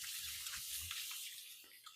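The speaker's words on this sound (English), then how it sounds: "I'm going to give my hands a quick rinse" Water runs from a kitchen tap as hands are rinsed beneath it, giving a continuous, fairly soft splashing hiss with slight fluctuations and no voices.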